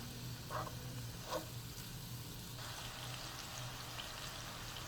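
Impossible sausage meat substitute browns in a pan with a steady, fairly quiet frying sizzle and a few faint scraping taps as it is broken up; no one speaks.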